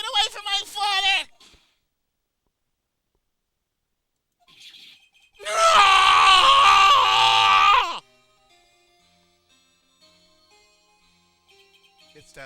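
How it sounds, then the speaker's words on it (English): A loud, sustained scream from the video game Phoenix Wright: Ace Attorney rings out for about two seconds, preceded by a brief vocal outburst and followed by near silence. "It's that same scream I heard in the elevator 15 years ago."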